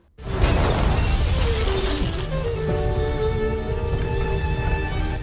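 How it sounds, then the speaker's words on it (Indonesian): Glass shattering during an enemy attack on an air force base: a sudden loud crash followed by several seconds of dense ringing, tinkling debris that slowly thins out. "Shankar bergerak cepat melindungi Mukti dari pecahan kaca."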